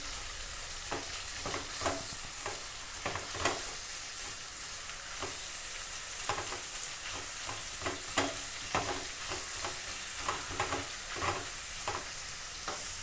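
Carrot and onion fry hard in a pan over a high flame, a steady close sizzle broken by repeated scraping and clacking stir strokes throughout, with no talking.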